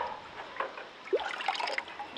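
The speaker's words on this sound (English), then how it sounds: "Let's dip it down in our water here and get the lye rinsed off of it" A cast iron Lodge #8 SK skillet dipped into a container of clean water to rinse off lye, giving soft splashing and trickling with a few small drips, close and quiet, with no talking.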